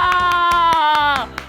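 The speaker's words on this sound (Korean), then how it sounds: "아주 크게 박수를 한번 쳐볼 거예요." Young children at a Sunday preschool church service clap their hands loudly in a steady rhythm, about five claps per second, under a sustained sung or musical tone that fades near the end.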